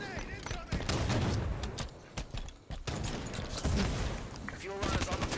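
Fuel rod cannon fire from a Halo-style shooter game, bursts of explosive weapon blasts and rapid gunfire crackling through a busy battle, mixed with other game sounds.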